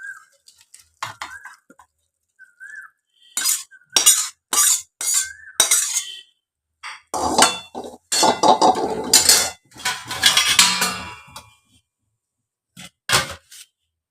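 Cooked okra scraped from a metal pan into a dish, a series of close clattering knocks and scraping spoon strikes in uneven bursts separated by silences.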